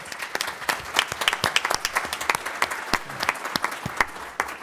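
An audience at a Chamber of Commerce legislative kickoff event gives a warm round of applause, many hands clapping in a steady, dense patter throughout at moderate loudness, without voices standing out.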